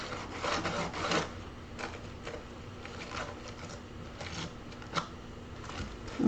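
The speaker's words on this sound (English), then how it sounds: "I think I'm going to get a new little sander. See if this one looks better." A small sander works wood in short, quiet bursts, giving a faint, irregular raspy rubbing with brief pauses between strokes and no talking.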